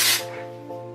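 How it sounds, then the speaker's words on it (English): Hair styling spray hisses from a can in one strong burst onto short hair with bangs, then fades into a softer lingering hiss under a steady low hum. "Spray it on the top bits, spray it all"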